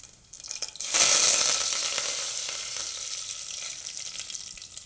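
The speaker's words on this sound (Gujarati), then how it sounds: "અને તેલ ગરમ થઈ ગયું છે. તો એમાં આપણે પહેલાં લસણની કળીઓ નાખીશું, ને લીમડો," Garlic cloves and curry leaves drop into hot oil for a Gujarati bottle gourd (dudhi) curry, setting off a sudden loud sizzle that stays steady and close, slowly easing to a continuous crackling hiss.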